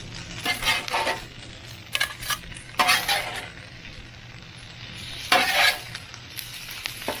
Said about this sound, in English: now you're just flipping it to get the egg that was on the top on the bottom